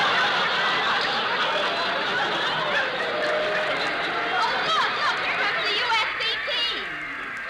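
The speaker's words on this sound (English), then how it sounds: "Yeah, listen to that crowd." Crowd at a football game in an old-time radio show: a dense, continuous roar of many voices chattering and cheering, loud and steady throughout, easing slightly at the end.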